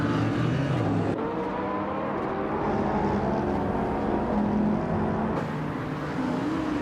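A 2010 Audi TT RS with a turbocharged engine races in a driving game, its engine holding a steady, loud drone with shifting pitch throughout, alone with no talk.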